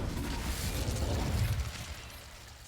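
A fire spell cast in Hogwarts Legacy bursts out as a loud whooshing, crackling blast that holds steady for a couple of seconds and then slowly fades.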